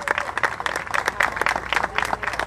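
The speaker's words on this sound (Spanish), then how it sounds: "Pablo Bugdal, a quien recibimos con un fuerte aplauso" Warm applause for Pablo Bugdal at the 15th anniversary ceremony of the Guardia Urbana of Rafaela: lively, dense clapping from a crowd, loud and close, continuing steadily without voices.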